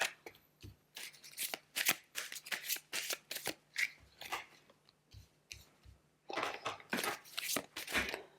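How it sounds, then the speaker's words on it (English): Tarot cards being shuffled by hand: close, repeated riffling and slapping bursts in an uneven rhythm, with short pauses between handfuls and no voices. "I will show you the cards as I read them"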